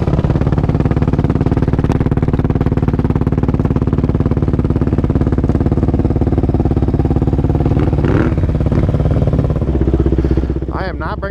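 Yamaha Raptor 700 ATV engine idling steadily and loud, a constant rumble with faint clatter, shifting in pitch near the end as it prepares to set off.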